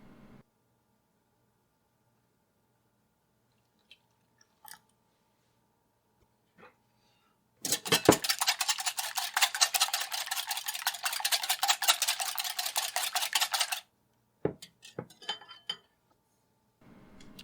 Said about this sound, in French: je le bats, et je le mélange à 60 g de lait entier